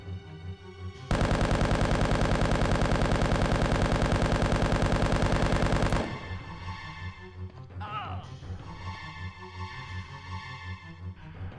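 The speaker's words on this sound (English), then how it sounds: "You have to shoot the flames, okay?" Gunfire in Resident Evil 1.5 aimed at flames. A loud, steady stream of rapid shots runs for about five seconds, then a softer, busier game soundscape follows.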